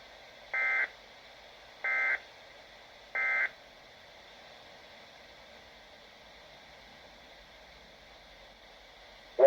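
Three short, evenly spaced weather radio alert tone bursts from a Canadian test broadcast ring out over a faint static hiss, followed by quiet noise and a brief sharp sound at the end.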